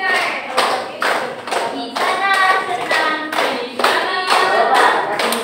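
A group claps hands in bursts of rhythmic counted claps, loud and close, with brief pauses between rounds.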